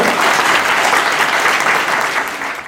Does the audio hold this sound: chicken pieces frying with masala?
no